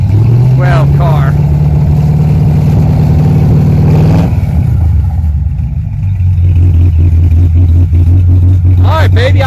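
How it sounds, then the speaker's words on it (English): A 1980 Chevrolet Malibu race car engine idles loud and close, holding a steady low rumble, dipping briefly as the revs change, then settling into a deeper idle. "we got ourselves a running race car"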